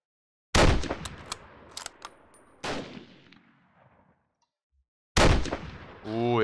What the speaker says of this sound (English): that was a machine gunner